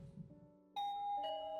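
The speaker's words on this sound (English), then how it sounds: "Tsukasa rang the doorbell since my hands are full." Two-tone electronic doorbell chime in a video game, ringing once as a clear ding-dong over a quiet soft background tone, bright and close.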